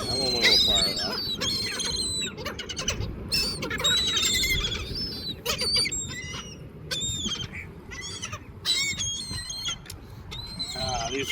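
Seagulls being fed, calling in a flurry of sharp squawks and cries, some close and loud, overlapping near and far amid rustling and outdoor noise.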